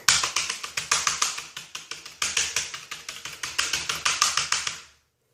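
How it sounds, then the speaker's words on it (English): Rapid clicky key presses on a Gear Heads computer keyboard, bursts of sharp taps in quick irregular rhythm, close and fairly loud, stopping abruptly near the end with no talking. "As you can see, the computer is completely unresponsive to any of my key presses."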